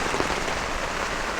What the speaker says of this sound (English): All right, so it started raining.